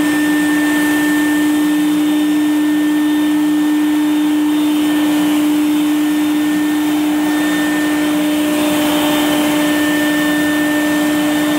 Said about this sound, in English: I have this wet dry vac from Home Depot called the Bucket Head, and I also have this squeegee attachment